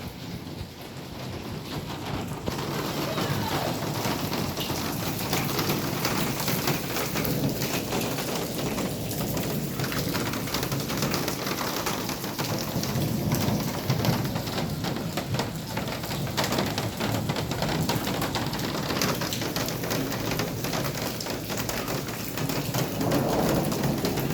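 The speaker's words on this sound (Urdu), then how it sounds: "اس وقت کوئٹہ میں بہت تیز ژالہ باری جاری ہے، تیز ہوائیں اور بارش بھی ساتھ میں" Heavy hailstorm with strong winds and rain in Quetta: a dense, unbroken roar of falling ice and water that stays loud and steady throughout, with no voices.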